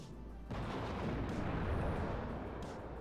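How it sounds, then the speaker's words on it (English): Heavy artillery fire in the real-time strategy video game WARNO, a sustained deep rumbling roar of blasts that swells suddenly and stays loud and dense for several seconds. "Comes the artillery."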